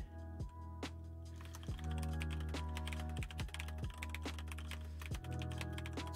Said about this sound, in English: just typing a message in the Twitch Beans Discord